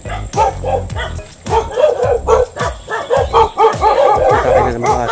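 Several pet dogs at a rural home in the Philippines bark and yip close by in quick repeated bursts, some whimpering between barks, with a few soft voices in the background.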